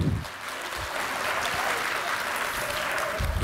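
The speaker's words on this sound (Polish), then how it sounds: "Wielkie brawa!" Applause from an audience at a Polish lecture on allergies, welcoming a medical professor; a moderate, even patter of clapping hands with a few low thumps, not very loud.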